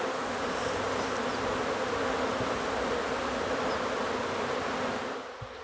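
Honey bees buzz in a steady, dense drone around their hive after being transported, loud and continuous, fading slightly at the very end.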